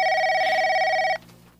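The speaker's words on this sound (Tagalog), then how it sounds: "Ang telepono. Ay, sino kaya ito?" A telephone rings with a steady, loud electronic bell tone for about a second before cutting off, followed by quiet room noise.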